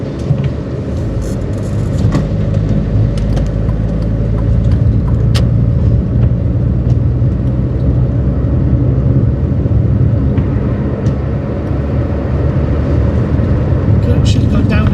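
Steady low engine rumble and road noise from a Toyota Paseo cruising in fifth gear, constant and close throughout, with talk over it inside the car.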